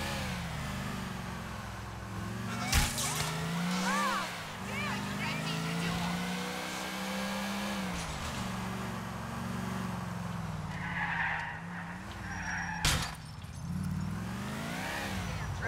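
In the video game GTA IV, a car engine drones and shifts pitch as the vehicle drives and skids, with a couple of sharp impact bangs and talk over the top throughout.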